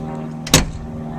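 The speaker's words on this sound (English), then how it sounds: "Notice the way the doors close." A restored 1965 Ford Mustang Fastback door shuts with a single short, solid thump over a quiet steady engine hum.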